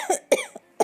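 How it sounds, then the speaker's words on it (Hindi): A man coughs loudly in three harsh bursts, with short pauses between them, close and alone with no other sound. "इतना कहकर वो जोर जोर से खांसने लगे।"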